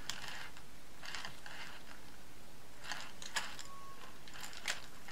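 Screws are tightened on a Juki DU1181N sewing machine needle plate in quick bursts of soft ratcheting clicks, close and quiet over low background hiss.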